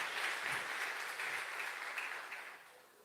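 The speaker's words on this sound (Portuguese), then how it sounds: "Você pode aplaudir a Ele por isso?" Congregation clapping together, a dense wash of applause that stays steady before gradually thinning and fading toward the close.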